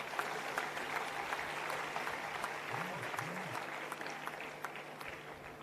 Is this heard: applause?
yes